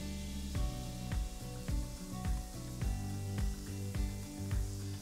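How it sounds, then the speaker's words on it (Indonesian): Homemade donut dough balls fry in moderately hot oil with a steady close sizzle, interrupted by regular soft thuds or stirring touches about every half second, and no speech. "Minyak ni dah panas tapi tak terlalu panas lah."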